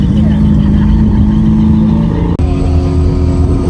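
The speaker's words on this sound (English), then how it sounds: "big units, V8 supercars. These make good noises." V8 supercar engines roar loudly and continuously at a Donington Park Thunder Saloons race, a steady throaty drone with pitch shifts as cars pass, mixed with trackside voices.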